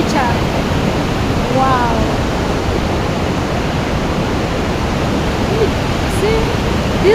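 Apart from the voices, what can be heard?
large waterfall in a Kenyan forest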